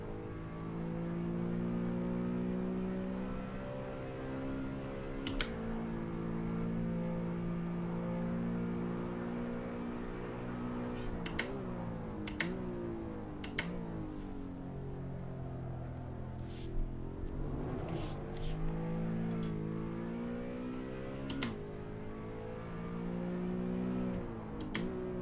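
Simulated engine of a Sim-Ply.City SW20 in Assetto Corsa, driven with a direct-drive wheel, droning steadily with rising and falling revs through corners, a sustained harmonic hum with occasional sharp clicks over it.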